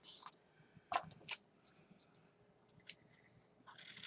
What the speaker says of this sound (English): Let me trim that side up with some scissors.